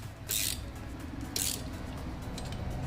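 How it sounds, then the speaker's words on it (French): Wrench tightening a bolt on a 103 moped, two short bright metallic ratcheting bursts about a second apart over a quiet workshop background. "un petit coup de clé vite fait, histoire de serrer"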